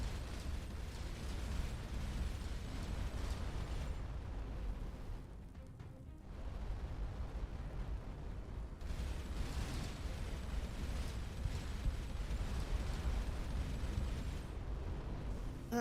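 Continuous spaceship gunfire in the space game Starcom: Unknown Space, a dense, loud stream of rapid bursts and booms that holds steady for the whole stretch, dipping briefly before resuming.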